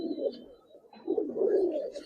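Large Giribaz pigeons kept as a pair coo in low throaty rolls, close by, with a short pause and then a longer swelling coo, a few faint high chirps above.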